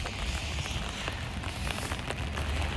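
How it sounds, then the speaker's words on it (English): Steady rain falls outdoors on a cold day, a dense, even hiss of drops pattering on surfaces with scattered sharper splats, close and constant throughout. "It's cold and rainy."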